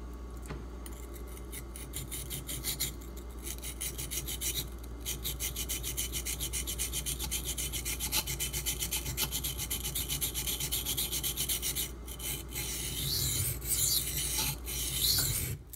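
Quiet, steady rasping strokes of a Two Sun D2 steel knife blade being sharpened, a continuous scraping rub over low background hum, with no one speaking.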